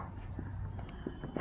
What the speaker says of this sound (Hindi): देखो अगला लिखते हैं फॉर्मेशन